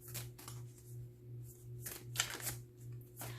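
Tarot cards are handled and drawn from a deck, with soft intermittent riffling and sliding card sounds, close and quiet over a faint steady hum, with no talking.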